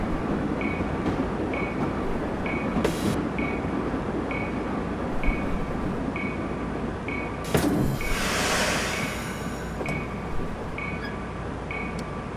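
A Virginia Railway Express commuter train rolls into Fredericksburg station, heard from on board as a steady low rumble with regular rhythmic clicks of wheels over rail joints and a brief burst of hiss partway through.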